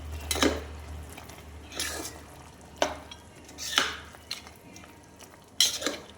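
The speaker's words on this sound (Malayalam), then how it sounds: "ഇനി ഒന്ന് ഇളക്കി കൊടുക്കും" Beef curry stirred in a pot with a spoon, several separate scraping strokes and clinks against the metal spaced a second or so apart over a low background hum, close, no speech.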